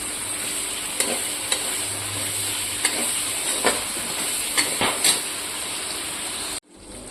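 Prawns frying in leftover oil in a home kitchen pan for a chingri potol dish: a steady, close hiss of sizzling with occasional sharp utensil clicks from stirring, cutting off abruptly just before the end.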